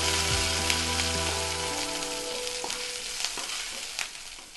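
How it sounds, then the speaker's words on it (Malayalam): Curry leaves and a green chili frying in oil in a pan and being stirred, making a close, steady crackling sizzle with a low tonal hum at first and a few scraping stirs, no speech. "ഇനി ഇതൊന്ന് ഇളക്കി കൊടുക്കാം."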